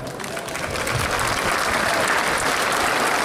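Applause breaks out at an Italian Air Force veterans' gathering during a parade, dense clapping from a large crowd that swells and holds steady, fairly near and loud throughout.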